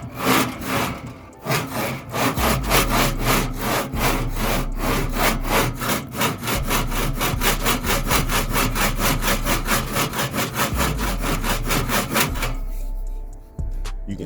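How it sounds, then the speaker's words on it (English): A scrape brush scrubs hard across a barbecue grill grate in a long run of fast, regular back-and-forth strokes, loud and close, with a low hum underneath, before stopping near the end. "now let's try with the scrape brush."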